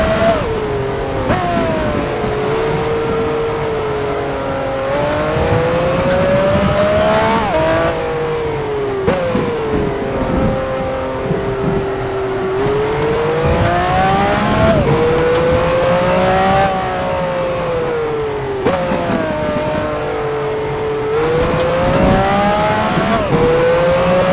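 Racing cars in the F1 Challenge video game at Montjuïc, Spain, 1969 season, in the rain: one loud, close engine note rises repeatedly through the gears and drops on each shift, with several brief lifts and no talk.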